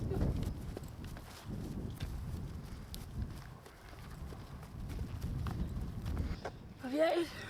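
A fully bred cob mare's hooves clop at a walk outdoors, an uneven series of thuds under a constant rumble and background noise, with a brief voice sound at the end.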